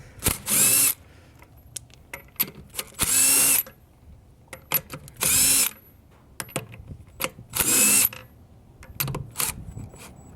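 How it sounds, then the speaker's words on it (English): A 3/8 air impact gun with a 17 mm socket rattles off BMW wheel bolts in four loud, close bursts of about a second each. Quieter clicks and handling noises fall between the bursts. "So we now use a 17 millimeter socket, and we now use a 3/8 gun"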